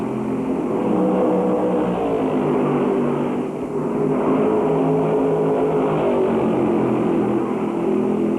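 NASCAR stock cars race at Darlington Raceway in the 1965 Southern 500, a loud, continuous roar of engines passing with wavering pitch and a brief dip midway, heard in old, slightly muffled recording quality.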